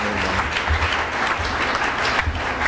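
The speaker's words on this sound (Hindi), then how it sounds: "आप लोगों की भरपूर तालियों में जनाब।" Sustained applause from a mushaira audience welcoming a poet, dense and even clapping filling the whole stretch with no talk over it.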